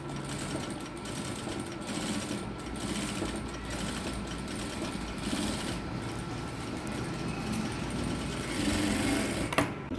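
A sewing machine runs steadily while stitching a blouse, its fast mechanical whir continuous and close for the whole stretch with no talk over it.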